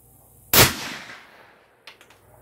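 A single sharp, loud gunshot from a .450 Bushmaster rifle fired into a dirt berm, with a short decaying echo and faint clicks afterward.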